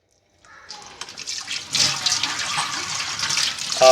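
Water running and splashing over a kitchen tap being cleaned, a steady close wash of liquid that swells partway through and continues to the end, with no talk.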